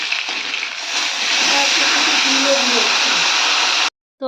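Fish frying in a pan at a village home kitchen, a loud close continuous sizzle and hiss that swells and holds steady, with faint speech mixed in, then cuts off abruptly near the end.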